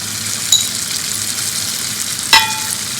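Tamarind juice and pepper sizzle in a hot pan for brinjal pachadi, giving a loud, continuous, close hiss with two brief metallic clinks and no voices.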